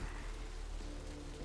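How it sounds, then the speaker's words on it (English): Rain falling in the video game Vampire: The Masquerade - Bloodlines, a faint, steady, even hiss of rain that continues without a break. "It is raining."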